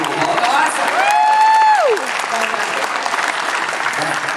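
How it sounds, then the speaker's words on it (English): An audience claps at a Power Rangers Q&A convention panel, a loud, dense burst of applause filling the room, with a brief whistle-like tone rising over the clapping before it settles into steady applause. "Give them a round of applause."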